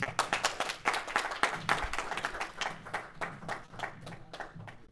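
Audience at a Toastmasters club open house meeting claps to welcome the Toastmaster, dense, lively applause throughout that gradually thins toward the end.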